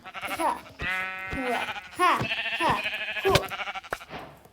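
Several Minecraft sheep bleat in quick succession, wavering nasal cries overlapping one another, with a short exclamation from a voice partway through.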